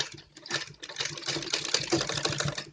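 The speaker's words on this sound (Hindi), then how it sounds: "इस पर सीधी सिलाई लगाऊंगी ऐसे, यहाँ से मजबूत करके।" A sewing machine stitching net cloth for a Patiala salwar, a fast, steady, rattling run of needle strokes close by, with no talk over it.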